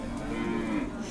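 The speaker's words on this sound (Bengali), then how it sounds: "সুন্দর গরু।" A cow at the Hozrotpur cattle market lets out one sustained, loud, close moo that fills the whole moment.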